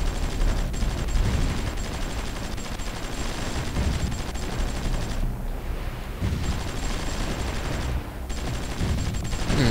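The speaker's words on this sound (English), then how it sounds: "Have the artillery bombard." Artillery bombardment in the war strategy game Supreme Ruler 2020 rumbles as dense, continuous barrages of explosions and gunfire, loud and unbroken with only brief lulls.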